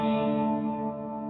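A Strymon Nightsky reverb pedal in low pass filter mode sustains a dense, synth-like harmonic drone, close and even, slowly dulling as the upper tones fade away.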